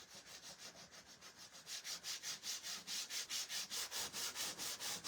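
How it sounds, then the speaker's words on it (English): Sandpaper rubs back and forth over small wooden Easter bunny figures in quick, steady strokes. The raspy swishes are close and repeat evenly, growing louder partway through, with no talking. "now I'm sanding them instead"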